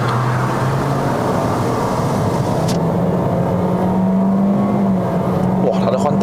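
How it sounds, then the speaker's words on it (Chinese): A Toyota Corolla Sport 1.2T turbo with a torque-converter automatic accelerates at full throttle with kick-down from 0 to 100, its engine droning steadily inside the cabin with a rising tone and a gear change, while someone talks throughout. "试一个0到100，踩到完了 ，kick down 也按下去了。"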